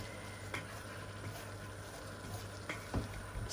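Minced beef spring roll filling, seasoned with sesame oil and white pepper, frying in a pan: a faint, steady sizzle with a few soft stirring scrapes.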